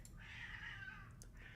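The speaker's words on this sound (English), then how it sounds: "Right outside my window, there's a cat fight." Cats fighting right outside a window, a single drawn-out yowl rising and wavering for over a second, fairly clear over a steady low background hum.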